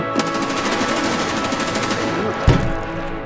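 Sustained automatic gunfire burst from a rifle in the shooter game Escape from Tarkov, rapid evenly spaced shots filling nearly the whole stretch, loud and close, ending in a heavier thump.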